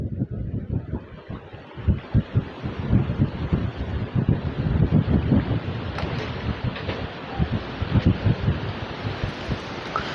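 Steady wind sweeps across an outdoor waterside spot with trees, producing continuous rushing and buffeting gusts against the microphone, fairly loud and unbroken throughout, with no clear voices over it.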